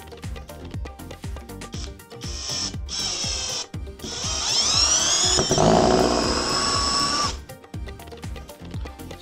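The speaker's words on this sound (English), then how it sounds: "I'm gonna take some two different screws and try to put them directly in the wood." A power drill drives two different screws straight into wood with a screwdriver bit, heard as close, loud bursts of whirring motor revving up and down, then a long sustained high grind as the screw binds.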